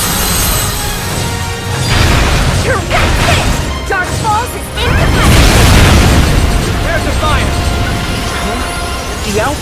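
Cannon fire booms heavily during a lake boss battle in the video game Phantasy Star Online 2 New Genesis. Loud crashing blasts land around two and six seconds over dense game sound effects, and voiced characters speak throughout.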